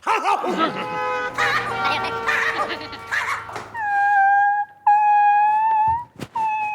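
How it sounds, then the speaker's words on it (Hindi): Dogs howl inside a police post, drawn-out wavering cries rising one after another near the close, following a stretch of people talking over a low hum. "अरे मैडम, लगता है चौकी में कुछ कुत्ते आ गए हैं।"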